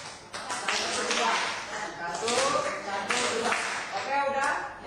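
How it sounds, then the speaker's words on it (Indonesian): Children clap their hands together in a patterned classroom rhythm, several sharp group claps spread unevenly over a few seconds, with voices talking between them. "Tepuk tangan seperti ini nak ya. Coba ikut tepuk tangannya dulu."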